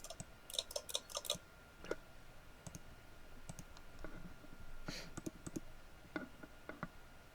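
A player's microphone in an online tabletop role-playing session picks up rapid, irregular clicking, quick bursts of light taps like a keyboard or mouse over a faint background hiss, with no speech.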